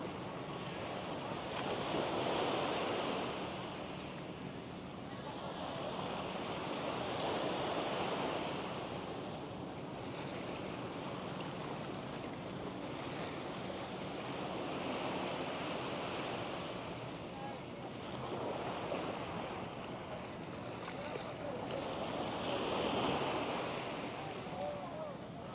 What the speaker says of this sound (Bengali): সমুদ্রের পাড়ে আসলে এই পানির গর্জন, পানির যে আওয়াজ